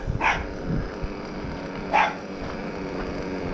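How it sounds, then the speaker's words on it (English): A dog barks twice, about two seconds apart, sharp and fairly close, over steady outdoor background noise. "What you barking at, dog?"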